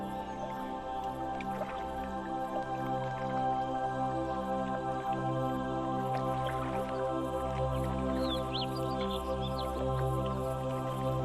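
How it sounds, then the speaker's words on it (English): Water in a VRChat world trickles and drips gently in a continuous, moderately quiet stream, layered over a sustained tonal ambient drone with faint chirps. "The water sounds are lovely."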